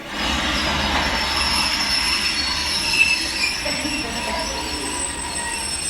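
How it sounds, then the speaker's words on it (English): A train's wheels squeal loudly against the rails as it brakes to a stop, a sustained metallic shriek over a low rumbling roar, with no talking. "Stop the train!"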